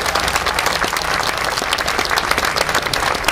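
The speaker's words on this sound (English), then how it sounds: "let's give Gary Petricola a big round of applause" A crowd at a marching band show applauds steadily, dense overlapping claps filling the few seconds at even loudness without talk.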